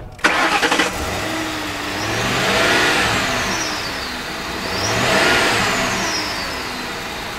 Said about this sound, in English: When you hit the accelerator on this car, it gets up and goes.